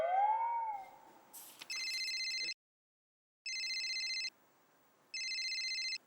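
An electronic telephone ringtone chirps in three separate bursts with brief silences between them, clear and close, preceded by a short swooping tone.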